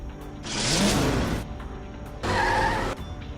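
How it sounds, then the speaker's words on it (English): A bus in SpongeBob: Battle for Bikini Bottom Rehydrated sweeps past in Rock Bottom, two loud whooshing passes with a screeching, skidding edge, each lasting about a second, separated by a short lull. "the bus goes by when you were not looking"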